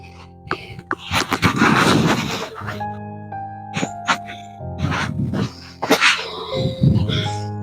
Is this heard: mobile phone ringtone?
no